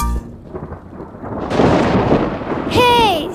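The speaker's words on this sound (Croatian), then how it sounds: "Kišo odlazi" Cartoon rain and thunder from a Cry Babies Magic Tears episode: a deep rumbling roll builds into a loud crash with rain hiss, then ends in a brief, bright, whistling cartoon tone.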